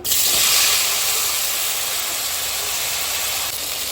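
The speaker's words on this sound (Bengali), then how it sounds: "বেগুনটা আমি তেলের মধ্যে দিয়ে দিচ্ছি" Eggplant hits hot oil while a rita fish dish cooks, setting off a loud, dense, steady hiss of frying that surges at first and then holds close and even.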